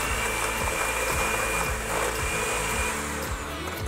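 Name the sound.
mixing softened butter and sugar together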